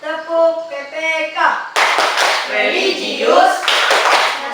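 A group of voices chants, then breaks into a burst of rhythmic clapping in a quick, patterned beat, with voices calling along.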